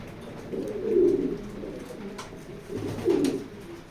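A racing pigeon coos twice nearby, low throaty rolling calls about two seconds apart over a soft background hum.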